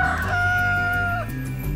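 Rooster crowing in a video game as a collectible rooster is picked up; a single clear, loud cock-a-doodle-doo call over a droning game background.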